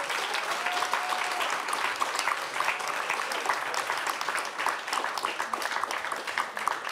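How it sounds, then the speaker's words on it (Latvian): Audience applauding the engineers' team at the end of a public debate, a steady wash of many hands clapping at moderate volume, with scattered louder individual claps and faint voices. "Aplausi inženieru komandai arī."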